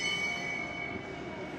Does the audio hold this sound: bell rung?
yes